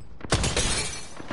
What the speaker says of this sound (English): Shield broke.